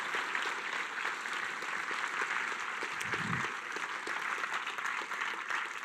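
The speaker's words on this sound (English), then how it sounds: "Big round of applause, please." A crowd gives a sustained round of applause at the F1 in Schools UK National Finals awards ceremony: dense, even clapping throughout, with a brief low thump midway.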